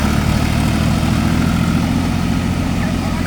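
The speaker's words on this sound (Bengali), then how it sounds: "ট্রাক্টর দিয়ে নৌকার নিচে একটা চাকা লাগায় নৌকাটা টেনে নিয়ে যাচ্ছে" A tractor engine drones steadily at close range, towing a wheeled boat across a beach at Kuakata, a continuous loud low rumble that never lets up.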